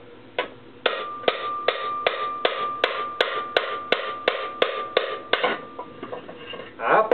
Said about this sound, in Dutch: Ik sla hem met een hamer op.